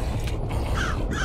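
Crows in the video game World of Magic caw in a short creaking, rasping burst, a couple of harsh calls heard up close over a steady game background with no speech.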